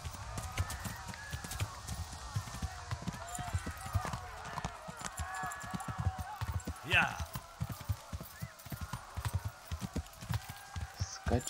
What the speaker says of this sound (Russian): Скачи, мой верный конь.